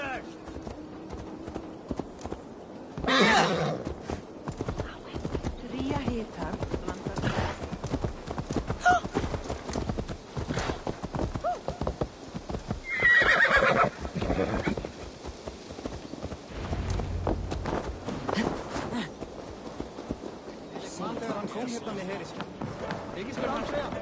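Horse hooves clip-clop steadily through a medieval Viking-era town in Assassin's Creed Valhalla, with a brief whinny from the horse, under game dialogue and background music.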